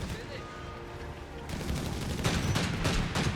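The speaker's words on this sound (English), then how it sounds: "He's been pummeled by the Humber armored car that's 20mm auto cannon" Rapid 20mm autocannon fire from a Humber armored car in Company of Heroes 3, bursts of sharp shots and impacts that grow louder after a quieter opening, mixed with battle noise and a voice talking over it.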